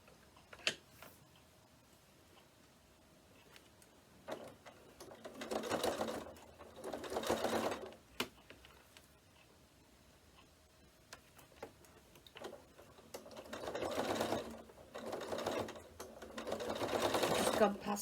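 A domestic sewing machine stitches a zip onto a fabric notebook in bursts of rapid mechanical whirring, each lasting a couple of seconds, separated by quiet pauses with faint ticks and clicks.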